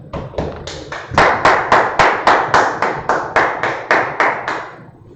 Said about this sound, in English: clap up for the Lord.